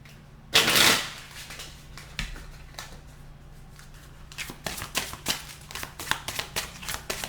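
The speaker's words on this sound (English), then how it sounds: "Last shuffle." Tarot cards being shuffled by hand, a brief loud riffle near the start followed by a run of quick crisp card flicks and snaps toward the end, close and clear with no talk.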